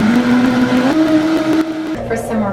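A blender whirs steadily as it blends a smoothie with ground flaxseed, its motor pitch rising partway through and a voice speaking over the loud, continuous drone.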